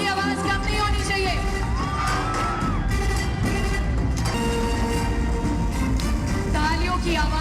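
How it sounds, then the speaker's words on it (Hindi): A large audience at a company event welcomes the CEO and managing director with loud, continuous crowd noise, cheering and shouting that stays dense and steady throughout. "तालियों की आवाज कम नहीं होनी चाहिए।"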